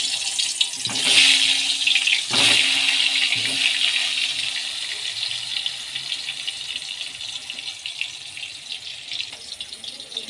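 Goat meat being rinsed under a running tap for a thin potato and goat curry, steady water spray hissing with a few clattering knocks as pieces are handled, fairly close and continuous with no speech.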